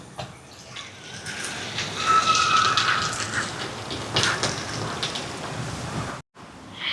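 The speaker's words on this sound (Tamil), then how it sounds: "நல்ல மழை." Heavy monsoon rain pours steadily outdoors during a downpour with lightning, a dense continuous hiss across the whole stretch, loud and unbroken, with a brief drop near the end.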